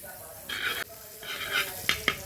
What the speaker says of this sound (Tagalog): Gisahin ang bawang.